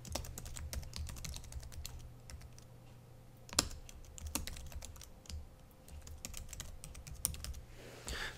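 Fingers type on a computer keyboard in quick, uneven bursts of close clicks, with a few sharper key strikes standing out.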